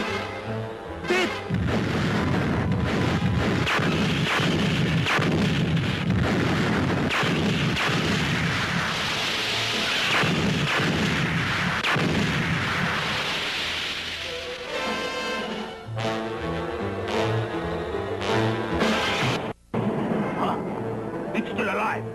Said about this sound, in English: It's still alive. Keep firing.